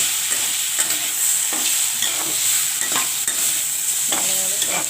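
Vegetables are stirred in a hot pan with chili powder and turmeric for a spicy Bengali susni and kalmi greens chachchari, giving a close, steady frying sizzle broken by repeated scraping strokes of a spatula.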